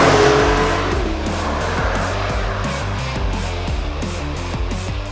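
A 2021 Porsche 911 Turbo S with an eight-speed PDK dual-clutch gearbox accelerates hard through a curve. A loud, sustained engine roar climbs through rising revs with close in-cabin rumble.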